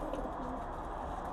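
Pigeons in a loft give soft, low cooing against a steady background murmur. The calls are faint and fairly close, with no speech.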